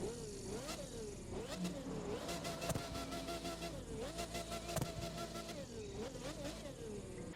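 In the racing game The Crew 2, a Spruemeister SM71 car engine revs up and eases back in repeated smooth cycles, loud and continuous with no talk over it.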